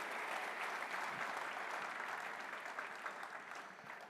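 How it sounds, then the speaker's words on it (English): An audience at The Platform Nigeria conference gives Pastor Poju a round of applause: thick, continuous clapping from a large crowd, steady and full throughout before easing slightly toward the end. "Shall we give Pastor Poju a round of applause?"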